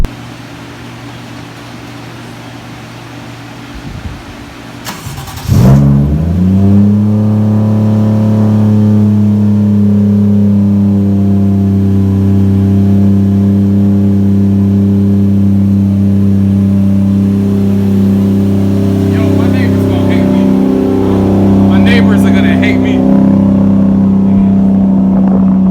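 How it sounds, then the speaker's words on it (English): A Toyota 1JZGTE engine swapped into a Lexus IS300 cranks briefly and fires up with full exhaust, then settles into a loud, steady, deep idle that drones on close by with no talking. "let me show you guys the first time that I actually started it up at Lee's shop with the full exhaust on there"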